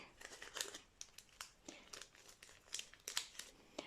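A plastic bag crinkles in irregular bursts, close and quiet, with sharp rustles and pauses between handling sounds.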